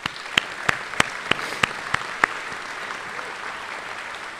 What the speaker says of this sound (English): Please join me in giving these individuals a round of applause.